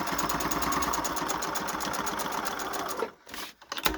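A sewing machine runs steadily, stitching a gift card holder with a fast, even rhythmic whir for about three seconds, then stops abruptly, followed by a couple of faint handling clicks.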